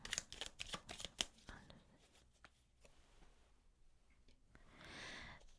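Tarot cards are shuffled in a quick flurry of crisp riffles and snaps, close and quiet, followed by softer sliding as a card is drawn.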